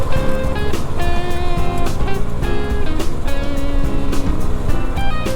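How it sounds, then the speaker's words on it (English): Loose gravel clatters and pings against the fenders of a Honda NX500 motorcycle riding along a highway, irregular sharp hits over a loud continuous engine and wind roar. "Hear all the loose gravel in your fenders now?"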